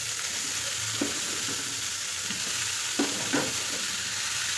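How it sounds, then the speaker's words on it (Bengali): A mixed vegetable dish of cabbage, bottle gourd and papaya cooks slowly on a low flame, giving a steady soft sizzle with a few faint stirring scrapes, close and fairly quiet. "সবজিটা রান্না করছি ধীরে ধীরে একদম লো ফ্লেমে"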